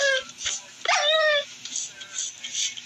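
A dog in the game Minecraft gives a short whining yip followed by a brief bark-like whimper, close and clear over quiet background.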